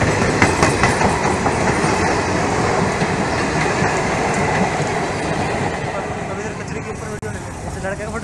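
A train bound for Bareilly in India runs at full speed. It makes a loud, continuous rumble with rhythmic wheel clatter and a faint squeal, holding steady throughout and fading slightly toward the end.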